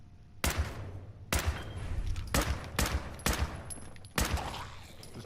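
Bursts of gunfire in Fallout 4, about five loud broadband volleys of rapid shots spaced roughly a second apart over a steady low ambient hum, close and sharp.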